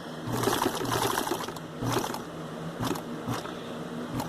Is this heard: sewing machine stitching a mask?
yes